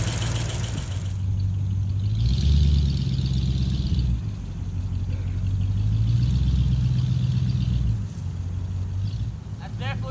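Revived Jeep CJ-7 Laredo engine running steadily up close, its low rumble rising and falling with a few revs, while people talk over it.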